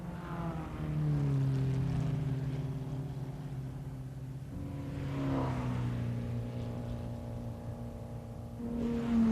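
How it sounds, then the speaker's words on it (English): Formula 2 Porsche race cars circulate at the 1957 German Grand Prix, their engines droning in long rising and falling passes, moderately distant, with one car's note fading as another swells in. "The Formula 2 Porsches keep circulating."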